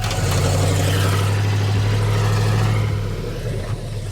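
A twin-turbo LS-swapped Foxbody idles with a loud, deep, steady rumble, then the engine note dips and roughens near the end as the idle falters.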